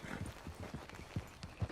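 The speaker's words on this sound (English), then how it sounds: "Get on the horse when you're ready." Horse hooves clip-clopping in Red Dead Redemption 2, a faint, steady walking rhythm of soft hoof strikes, close and unaccompanied by talk.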